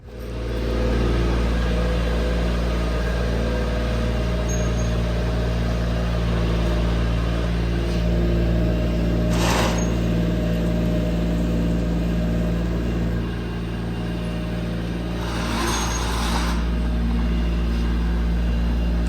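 A skid steer's diesel engine drones steadily at close range as it moves a frame table, rising and falling slightly as it works, with occasional clanks and hisses.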